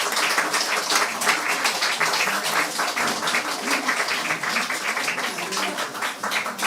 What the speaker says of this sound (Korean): 꽃다발 증정할 때 박수로 꽃다발도 함께 전달해 주시면 감사하겠습니다